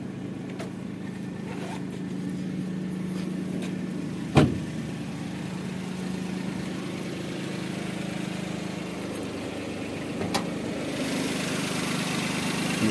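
A repossessed used car's engine idles steadily with a low, even hum throughout, rough and shaky in character, with a brief knock partway through and faint clicks; no talking.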